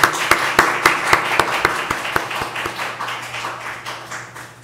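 A church congregation stands and claps in welcome for a deacon's family, a burst of sharp, fairly close hand claps that thins into scattered, softer clapping over a steady low hum.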